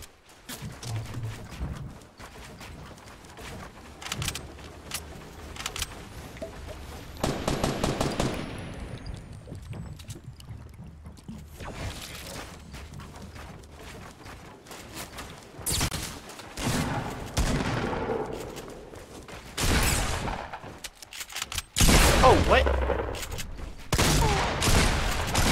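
Bursts of video game gunfire crackle through a hectic online match, with rapid volleys and single shots coming in clusters, loudest toward the end, amid game noise with no talk.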